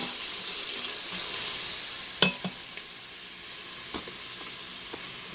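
Vegetables sautéing in an Instant Pot for lentils, a steady soft sizzle running throughout with a few sharp stirring clinks and scrapes scattered across it.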